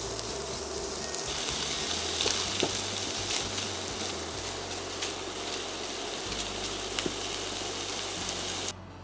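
Prawns sizzle steadily as they are stir-fried in a hot pan for spaghetti stir-fry, a constant close frying hiss with occasional light pops and no voices.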